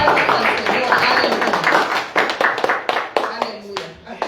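Church congregation clapping hands, first a dense burst of many hands together, then breaking into sharper rhythmic claps that rise and fall, with voices mixed in.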